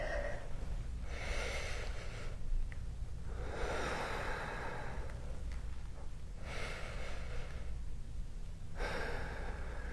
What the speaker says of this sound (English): And we're going to take a couple breaths there.